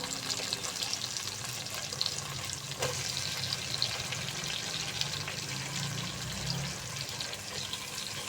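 Eggplant fries in a pan with onion, garlic and ginger, giving a soft continuous sizzle with light stirring scrapes, fairly quiet and steady.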